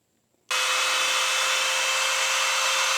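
A 4,000 RPM Milwaukee screw gun starts abruptly after a short silence, then runs at a constant high whine, loud and close, with no talking.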